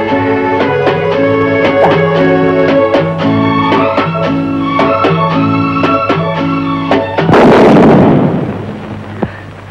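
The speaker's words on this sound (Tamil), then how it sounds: "தாத்தாவும் மீனாவும் அணுகுண்டு பட்டாசு வெடிக்கிறாங்க." Rhythmic film music plays, then one loud atom bomb firecracker bursts with a sharp, booming crack that quickly fades.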